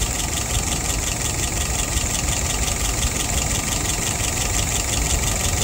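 An engine idles steadily and continuously while its idle stop screw is turned with a wrench, a constant mechanical hum with no pauses or voices.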